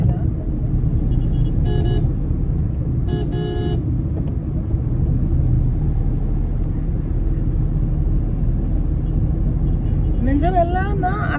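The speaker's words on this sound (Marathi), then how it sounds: "कुठे जायचं एवढं हॉर्न वाजवत आहे?" Car horns toot in short bursts amid a steady low rumble of traffic heard from inside a moving car, with a louder warbling horn near the end.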